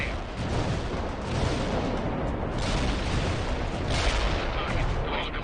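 Heavy tank cannon fire in the World in Conflict video game, a dense, continuous roar of battlefield blasts with a few louder booms surging through, with radio-style voice chatter from the game underneath.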